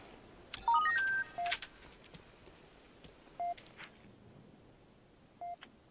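Electronic beeping in Halo 3: ODST, a quick run of rising tonal beeps followed by single short beeps repeating every two seconds, faint over a quiet hum.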